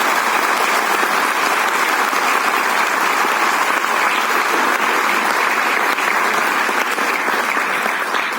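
Sustained, dense applause from a large audience at an Olympic stamp release event for Paris 2024, loud and even with no break for the full length.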